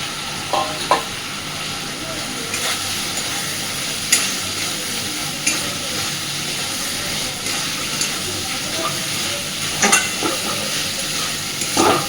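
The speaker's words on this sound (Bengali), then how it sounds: "এর মধ্যে আমি দিয়ে দিচ্ছি ভেজে রাখা আলুগুলো" Fried potatoes tossed into a sizzling spice mix in oil for an egg and poppy seed curry, a constant close sizzle broken by repeated scraping stirs and clinks of a spatula.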